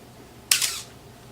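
A Canon AE-1 film camera fires once, a crisp mechanical shutter snap with a brief whirring tail, close and alone in a quiet room.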